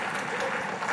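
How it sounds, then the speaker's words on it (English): Conference audience giving a round of applause for a co-host, a dense, steady burst of clapping heard alone and close. "Can we give her a big round of applause?"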